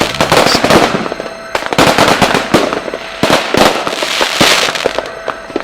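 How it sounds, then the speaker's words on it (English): Fireworks blast nonstop at a New Year's midnight celebration, a loud, dense barrage of sharp cracks and booms with crackling in between, close and continuous, with no voices. "count down to midnight to bring in the new year with fireworks being blasted into the night"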